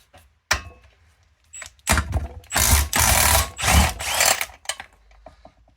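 An impact gun fitted with a 19 mm socket works coach bolts on a mini dumper in a workshop, with loud, close bursts of rattling hammering across several seconds after a sharp initial clack.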